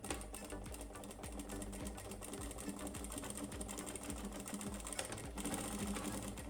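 A sewing machine stitches a seam joining the back panel of an old jacket, a close, fast, steady mechanical rattle running continuously with slight changes in pace and a brief backstitch.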